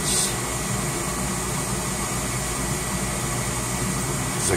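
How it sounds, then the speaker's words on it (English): Old ICP 90% furnace running with its newly replaced inducer motor, a steady whirring hum and airy rush held at an even level throughout, close and with no talk. "got the new inducer motor on. Burners, the igniter, and let's see if she runs"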